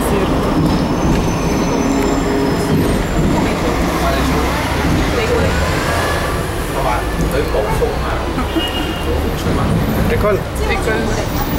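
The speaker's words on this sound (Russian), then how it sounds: "Трамвай на втором этаже первый раз" Ride on the upper deck of a double-decker tram in Hong Kong, with a constant loud rolling rumble and recurring metallic wheel squeal, close and continuous throughout.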